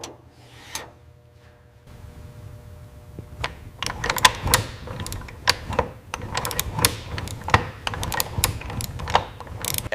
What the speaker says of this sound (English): Every bolt is tightened to exact specification.